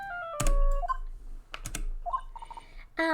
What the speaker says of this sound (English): That sounds like a ringtone Edgeworth would have